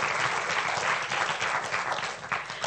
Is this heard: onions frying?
no